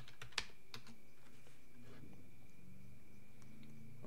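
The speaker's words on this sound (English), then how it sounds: "You'll need to type in your password." Password being typed on a computer keyboard during a Linux software install, a quick run of soft, close keystrokes with one sharper click near the start, over a faint steady background hum.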